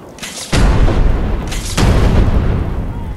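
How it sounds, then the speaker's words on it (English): Two heavy gunshots in Fallout 4 Nuka World, each a loud close booming blast followed by a rumbling decay, about a second and a half apart. "What is that guy shooting?"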